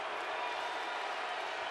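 A baseball crowd at an Astros–Angels game rises to its feet with the bases loaded, a dense, roaring wash of cheering that is steady and loud through the brief moment.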